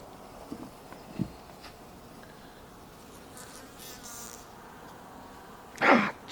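A honeybee buzzes faintly and steadily close by during a bee venom sting treatment for shingles, with a few soft thumps and a brief louder rustle near the end.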